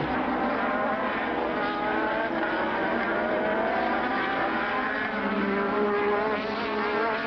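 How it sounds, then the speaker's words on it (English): Formula One cars from 1987 racing at the Portuguese Grand Prix, their engines making a steady, sustained high-pitched whine that holds throughout without pause. "The Williams car of Piquet you were looking at there."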